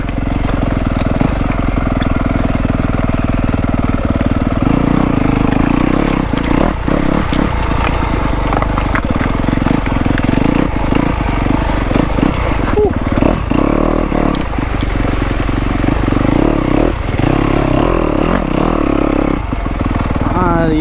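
Yamaha and KTM dirt bikes ride rough off-road terrain, the engine rumbling steadily and revving with clattering bumps, close and loud, while people talk over the noise.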